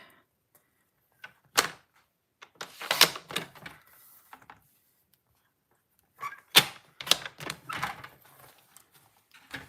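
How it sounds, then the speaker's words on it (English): A paper trimmer slicing cardstock in a straight cut, with close scraping, sliding and clicking bursts in two clusters separated by a short quiet pause. "I'm just going to take my paper trimmer and I'm going to make a straight cut."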